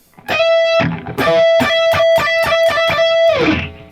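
A distorted electric guitar plays a lick: a held note repeatedly picked in quick stabs with brief bends and pauses, ending in a sliding flourish.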